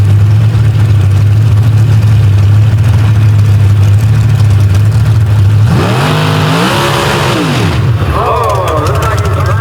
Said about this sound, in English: And there went a transmission. You can hear it right from go.